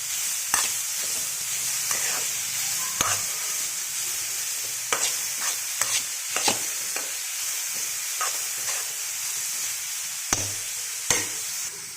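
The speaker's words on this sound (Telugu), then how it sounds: "ఇప్పుడు బీట్రూట్ని వేసేద్దాం. వేసి కలపాలి." Grated beetroot being stirred in ghee for beetroot halwa, a steady soft sizzle with a spoon scraping and clicking against the pan at irregular intervals throughout, close and moderately loud, no talking.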